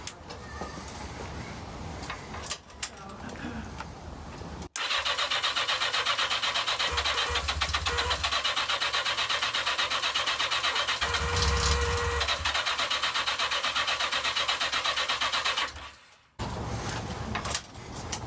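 A Yamaha XJ650RJ Seca motorcycle with choke applied cranks and turns over, a close, loud, continuous mechanical churning that runs for about eleven seconds before stopping.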